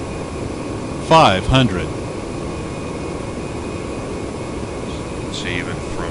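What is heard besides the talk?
Citation X jet engine on approach, flight simulator video game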